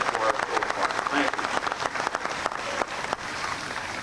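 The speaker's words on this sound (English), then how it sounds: "we should right now give all the marchers a nice round of applause" Outdoor crowd applauding marchers at a 1995 Korean War monument dedication in Wallingford, Connecticut, a steady patter of clapping lasting several seconds with voices mixed in.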